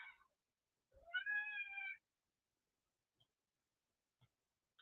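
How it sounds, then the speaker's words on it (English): A cat gives one clear, drawn-out meow indoors in an old plantation house museum room. A brief short call comes just before it, and quiet faint ticks follow. "Oh, cat."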